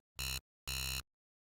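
Two short, harsh buzzing synth tones made with the coarse frequency cranked to about 20, the second slightly longer, each gritty and raspy with silence between them.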